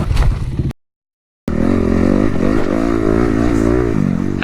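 Kawasaki KX250 enduro motorcycle engine at a practice event, revving loud and close with a rising, wavering note, cut by a brief silent gap before it returns.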